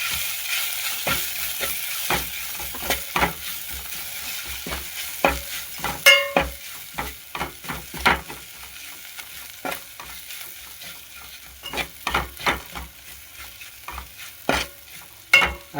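A spoon stirs chilli into rajgira greens bhaji in a pan, giving repeated scraping clinks at an irregular rhythm over a steady soft sizzle, close up and with no voices.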